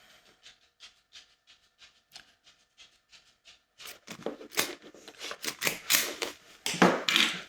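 An LC fiber connector is cleaned with a cleaning tool. Soft, regular clicks come first, then louder, denser rubbing and scraping strokes close by, with no one speaking.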